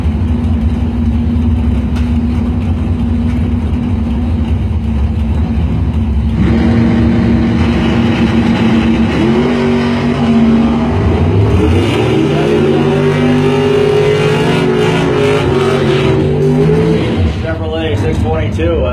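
A Chevrolet Monte Carlo and a 1988 Mustang at a drag strip idle, then rev and accelerate in rising, sweeping engine roars, with a public-address announcer talking over the race.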